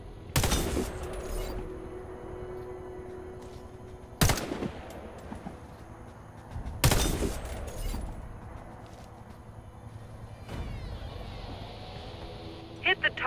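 Warface gunfire at targets through a scope: single sharp, loud rifle shots spaced several seconds apart, each ringing out with a short echoing tail, and a few faint clicks near the end.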